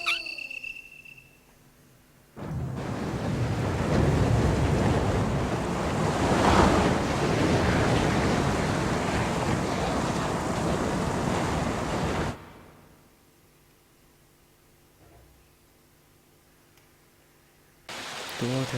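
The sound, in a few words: running water in video game Resident Evil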